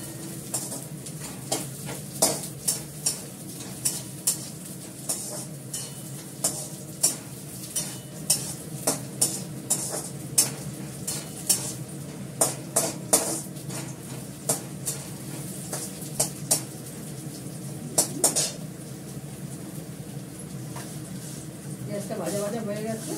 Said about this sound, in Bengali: পেঁয়াজটা মাঝে মাঝে হলে মেথিটা দেবো।